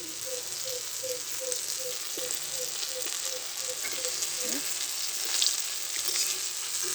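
Chops made from Sundarbans spotted crab fry in hot oil as they puff up, with a steady, close, dense sizzle and bubbling throughout and a few faint clinks. No one speaks.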